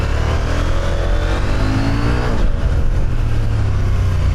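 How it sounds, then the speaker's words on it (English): A CFMOTO 800MT-X motorcycle with a KTM LC8C engine pulls hard under acceleration, its loud, buzzy engine note steady and close throughout, with no one talking. "The updated LC8C KTM engine's smooth and buzzy in a good way, and surprisingly lively"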